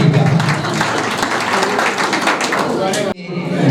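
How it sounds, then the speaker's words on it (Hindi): Audience at a teacher training college's cultural week program clapping loudly to welcome a guest, dense continuous applause for about three seconds before it cuts off abruptly into quieter room noise. "जोरदार तालियों से स्वागत करें श्रीमान पहाड़िया जी का"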